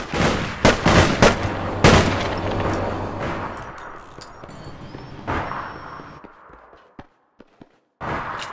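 Snub-nose revolver shots in the video game APB Reloaded, several sharp, loud cracks in an irregular burst with other gunfire, then a quieter gap and another shot near the end.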